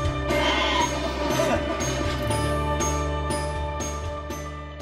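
Sheep on the Faroe Islands bleat close by and loudly, with several overlapping wavering calls, a faint tinkle of bells and brief sharp knocks between them.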